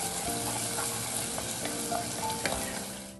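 Onion, tomato and ginger-garlic paste stirred in a hot pan for a drumstick veg biryani, a dense continuous sizzle with a spoon scraping and pushing the mix around, close and loud, no talk.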